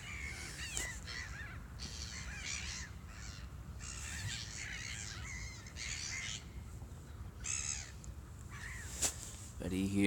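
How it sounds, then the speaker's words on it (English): Seagulls calling outdoors by a bank: repeated harsh cawing cries, some overlapping, at a moderate distance over a steady background hum, with faint voices now and then. "But you hear the seagulls"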